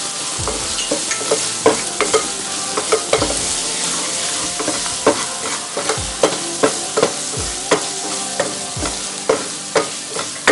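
Sautéed onions with turmeric and garam masala for vegetable biryani sizzle in a pan while a spatula scrapes and taps in a steady rhythm, dozens of close, loud strokes over a constant frying hiss.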